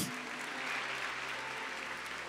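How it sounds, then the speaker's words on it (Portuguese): A church congregation at a Portuguese-language service claps together, a steady, moderately faint wash of applause lasting throughout with no break. "Você pode dar uma salva de palmas,"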